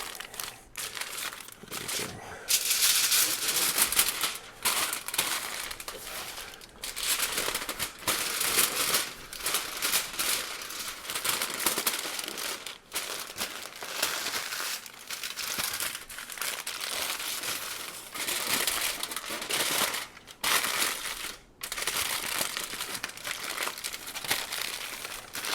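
Aluminium foil crinkles and crumples steadily while St. Louis spare ribs are wrapped in a double layer, a close, continuous rustling with brief pauses and no talk.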